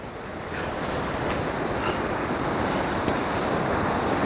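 Aharbal waterfall in Kashmir pours forcefully in a dense, continuous roar of rushing water. The sound holds steady and close with no pauses.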